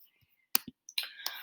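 Sharp computer mouse clicks during Photoshop Type Tool work, a few isolated taps with a soft scuffle and brief faint clatter in a quiet room, close and fairly crisp.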